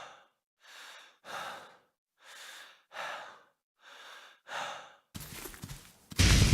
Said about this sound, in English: I also used these same techniques for the real-time parameter controls of the player's breath.